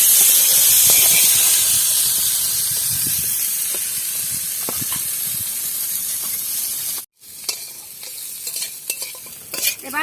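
Green beans fry in a pan for fried rice, a loud close sizzle and hiss that gradually eases, then after a brief cut scattered stirring scrapes and clinks over softer frying.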